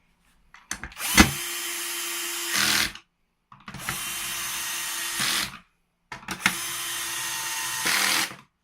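A power drill drives screws into a coffee machine brewing unit in three separate bursts of roughly two seconds each, loud and close, with the motor pitch rising at the end of each run as the screw seats.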